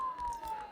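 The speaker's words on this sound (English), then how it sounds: "Don't those sirens sound really close?" A brief, faint police siren tone in a video game holds a steady wail, heard at a distance under a low background murmur.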